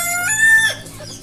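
Chickens on a poultry farm give out a loud, close clucking call with sustained, rising crowing-like tones from a rooster, strong for about half a second then trailing off, with no talk.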